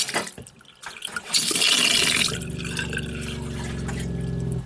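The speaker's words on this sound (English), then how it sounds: "That's a loud pump though, but we've got water." A loud water pump at an off-grid homestead runs with a steady mechanical hum beneath rushing, splashing water, starting after a brief quiet moment and continuing to the end.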